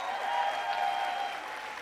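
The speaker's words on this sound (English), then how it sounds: "give them a round of applause" An audience at a corporate leadership summit keynote applauds in a steady, even wash of clapping that holds for the whole stretch.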